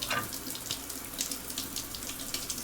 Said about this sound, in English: I'm going to get in the shower.